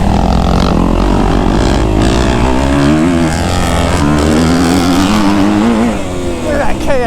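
Kawasaki KX250F and Yamaha YZ250F four-stroke dirt bikes riding hard on a track, loud close engines revving and pulling through the gears without a break, with a rider's voice over the engine noise.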